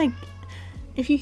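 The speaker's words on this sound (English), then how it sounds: "my cat screaming his little head off in the background" A pet cat meows loudly in short, strained cries, close by and overlapping with a person speaking.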